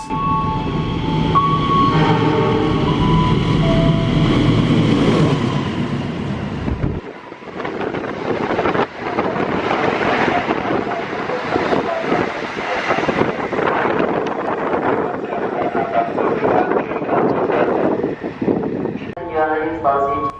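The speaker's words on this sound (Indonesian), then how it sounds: "Sedangkan jalur 4-nya juga akan melintas kereta api Parahyangan 135B." A train rumbles past nearby with a loud, steady roar and rattling of cars, lasting most of the clip.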